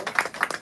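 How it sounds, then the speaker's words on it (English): A short burst of scattered hand clapping from a small crowd at a live talent showcase, uneven and fairly close, fading in and out over a brief moment. "We can give her a big round of applause"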